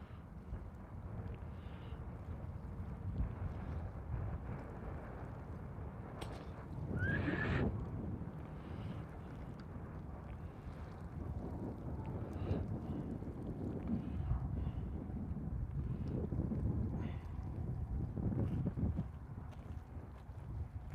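Wind gusts across a microphone while fishing in the desert: a constant low roaring rumble, swelling in a stronger gust partway through, with no talking.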